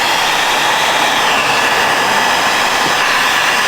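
A heat gun blows hot air over vinyl graphics on a car hood, a loud, steady, close whooshing roar that holds without a break.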